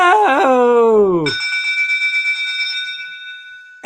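A bell alert for a livestream donation: a descending tonal chime gives way to a sustained, bright ringing tone that pulses steadily and fades, then a fresh strike cuts in at the very end.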